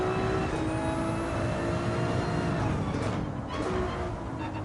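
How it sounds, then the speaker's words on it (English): A loud car engine in Gran Turismo 7 drones steadily throughout, a dense sustained roar with constant rumble and whine, close and continuous with no pauses. "Engine in this car is very loud."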